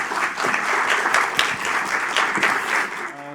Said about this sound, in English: please give a big applause for him